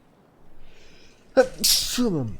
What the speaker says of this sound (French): Excusez-moi, c'est un éternuement intempestif.